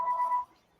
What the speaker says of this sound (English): We're getting a phone call.